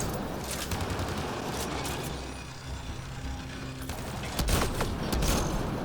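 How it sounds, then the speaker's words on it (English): Burst-fire gunshots in Mass Effect Andromeda: rapid, dense rattling volleys of sharp cracks that continue almost unbroken through the scene, loud and close. "Shooting only 3 bullets at a time is pissing me off."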